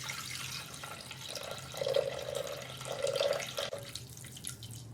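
Water pours into a Thermomix bowl, a soft, close trickle and splash that swells and fades over a few seconds before tapering off, quiet and without talking.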